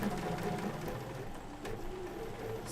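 A sewing machine stitching backwards across a quilt hums steadily at low volume, its even mechanical whir running unbroken throughout with no voice on top.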